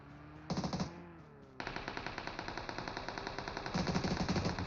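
Machine-gun fire in a video game match with vehicles driving around, sustained rapid shots that pause briefly and then resume as a steady, even stream, fairly quiet overall.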